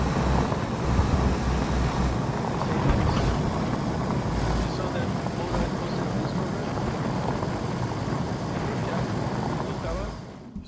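A car engine in the DayZ survival game drones as a loud, steady low rumble with wind-like broadband noise, continuous throughout without a break.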